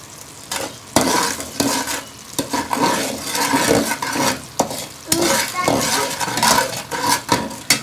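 A spoon scrapes and clatters through sugar syrup in a pan as black pepper, red chilli powder and salt are mixed in for raw mango chutney, with uneven strokes over a soft sizzle.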